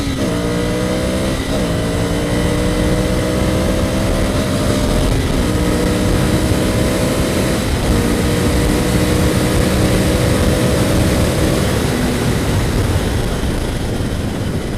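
A Ducati Scrambler Cafe Racer motorcycle accelerates hard on the road, its loud engine note climbing in pitch through several gears, each shift marked by a brief drop before it winds up again.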